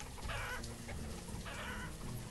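Chickens in the medieval village-building video game Banished cluck in soft, repeated bursts over a steady ambient bed of game background sound, moderately quiet with no talking.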